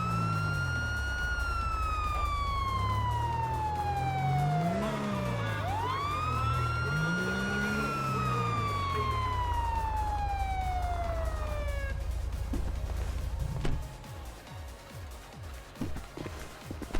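A police car siren in GTA Online wails loudly in long falling and rising sweeps, then cuts off, leaving scattered clatter and engine noise.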